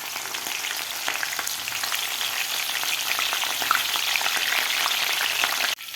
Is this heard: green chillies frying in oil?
yes